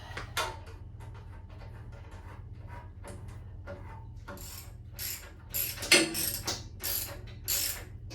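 A socket wrench ratchets on the fuel petcock of a 1997 Harley-Davidson Heritage Classic, a faint close run of quick clicks over a low hum, growing into sharper, louder clicking bursts toward the end.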